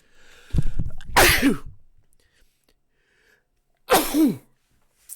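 Two loud, close sneezes, each with a sharp inhale before the burst, separated by a few seconds of quiet.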